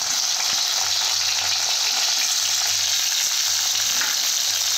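Onions and tomatoes sauté in a pan for a rohu fish and peas curry, giving a loud, continuous sizzle with faint stirring underneath and no voices.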